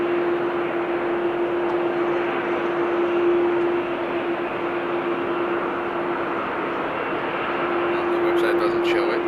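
An airliner at Amsterdam Schiphol Airport produces a steady, broad roar of jet noise that holds at an even level throughout, with a faint constant hum underneath.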